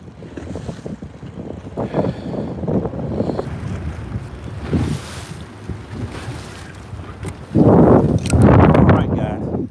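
Wind blows across a lake while someone bass fishes, a rough steady rumble with loud gusts buffeting the microphone toward the end. Someone talks through most of it.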